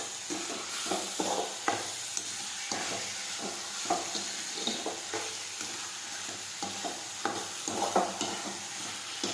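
Fenugreek leaves sauté in a pan for a homestyle Gujarati methi dish, giving a steady close sizzle broken by repeated scraping stirs and soft clatters of the spoon against the pan.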